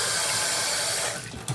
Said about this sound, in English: The water comes out, goes straight down